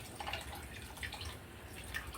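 Water trickling and dripping as it drains off washed rice in a pot, a faint, close, steady patter with small irregular drips throughout.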